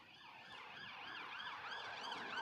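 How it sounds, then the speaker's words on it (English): Emergency vehicle sirens near Heathrow Airport wail in rising and falling sweeps, several tones overlapping, heard at a distance and fairly faint but steadily growing, with no talking. "We have our standard sirens and blue lights that we always pick up at any Heathrow live show."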